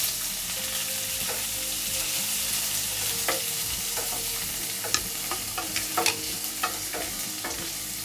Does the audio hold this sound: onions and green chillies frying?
yes